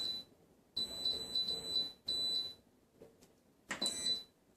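An Instant Pot pressure cooker beeping as its timer is set in a kitchen: several short, high electronic beeps in clusters with short gaps between them, clear and close with no talk.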